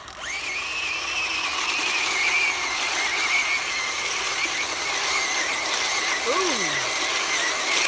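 A RUKO Q111 1:12-scale RC military tank spins at full throttle on soft dirt, giving a steady mechanical whine with squealing gear tones for several seconds, then a sliding squeal near the end, while a voice briefly exclaims.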